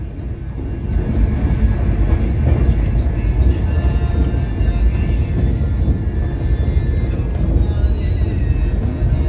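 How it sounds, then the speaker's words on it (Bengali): Howrah–Amritsar Mail express train running at high speed through Uttar Pradesh, a steady loud rumble and rush of wheels and wind from on board, continuous throughout with no talk. "গাইস, ট্রেন এখন আমাদের পণ্ডিত দীনদয়াল উপাধ্যায়ের উদ্দেশ্যে রওনা দিয়েছে। প্রচুর জোরে যাচ্ছে ঝড়ের গতিতে।"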